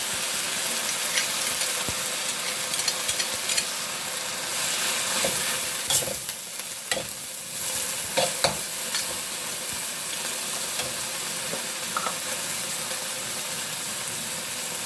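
Morning glory stir-fried in a hot wok with oyster sauce and a splash of water, a steady loud sizzle with scattered clinks and scrapes of the spatula tossing the greens, no talking.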